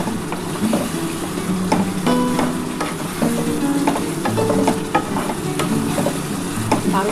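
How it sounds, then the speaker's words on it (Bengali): Spice masala for a light potato and egg curry fries in a pan while being stirred, a steady close sizzle broken by repeated scraping and clinking of the spoon against the pan. "এবার ভালো করে মশলাটাকে কষিয়ে নিতে হবে"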